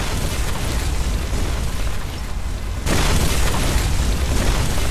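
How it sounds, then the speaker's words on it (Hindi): A red zone bombardment in PUBG sounds as a dense, loud roar of explosions that swells, dips briefly and then returns even louder, with no voices over it. "यहाँ पे एकदम मेरे पास एक रेड जोन फटता है"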